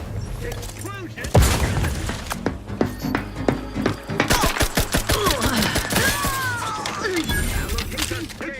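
A grenade blast in the video game The Outer Worlds 2 amid dense gunfire, a loud booming burst followed by rapid crackling shots and clatter, with in-game voices calling out over the din.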